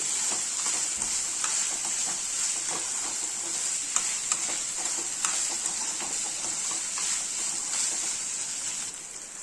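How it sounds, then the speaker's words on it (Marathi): Finely chopped tomatoes fry in hot oil in a pan, producing a continuous bright, hissing sizzle with small pops and crackles, close and steady, fading a little at the very end. "2 लहान टोमॅटो आपण बारीक चिरून घेतलेत, ते ह्या स्टेपमध्ये आपल्याला ऍड करायचे आणि ते सुद्धा आपल्याला तेलामध्ये व्यवस्थित फ्राय करून घ्यायचे"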